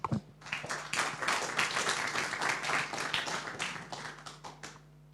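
Audience at a seminar on marine energy claps in a quiet room, a modest burst of applause that swells and then thins out, fairly faint and somewhat distant.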